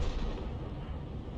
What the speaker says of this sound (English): Okay, lining up a shot for the Lorraine this time.